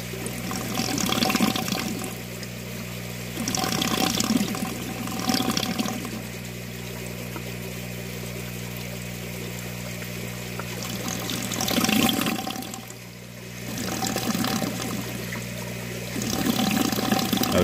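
Water flows and gurgles through a U-siphon, loud and steady, with a couple of surging, sucking pulses as it draws in air, then it keeps running with no talk.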